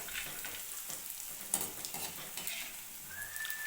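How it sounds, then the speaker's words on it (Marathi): Potato chaklis fry and puff in hot oil with a steady, close sizzle and crackle, a small clink of a utensil and a thin whistle-like tone near the end. "बटाट्याची चकली अशी फुगती तेल तापले"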